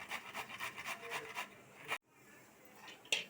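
Tomato is ground into a spice paste on a grinding stone with rhythmic rubbing strokes, close and moderately loud, before a brief pause and a single scrape.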